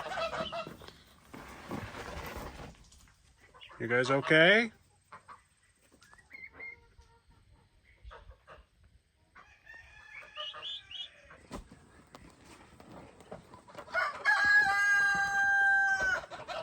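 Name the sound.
turkeys calling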